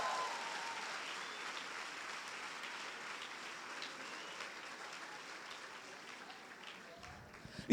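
Church congregation applauding for Jesus during a conference service, a dense, fairly faint wash of clapping that slowly fades over several seconds.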